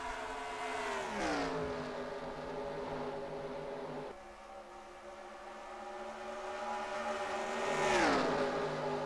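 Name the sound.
race car engines in the NASCAR Racing 2003 video game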